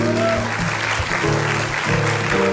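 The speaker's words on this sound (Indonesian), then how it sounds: "Ya, tepuk tangan buat Mas Anu." A studio audience on the Indonesian TV talk show Hitam Putih claps steadily for about two and a half seconds, with sustained musical tones running underneath.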